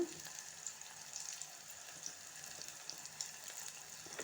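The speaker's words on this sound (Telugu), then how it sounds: "ఉల్లిగడ్డలు వేసి ఇట్లా మంచిగా కలిపేసుకోవాలి" Onions sizzling steadily in a hot pan while being stirred, a continuous close frying hiss with small scrapes and crackles throughout.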